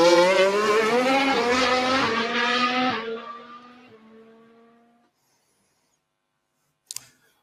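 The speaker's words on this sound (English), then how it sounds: "there's a little bit of a trace of a car at the start of the file" A Formula 1 car engine sounds as a strong harmonic whine that shifts in pitch, then fades into the distance and dies away over several seconds, leaving silence broken by one brief click near the end.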